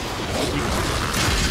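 An enemy blowing up in Warframe: a dense, steady crashing, shattering burst that fills the whole short moment loudly, with no talking over it.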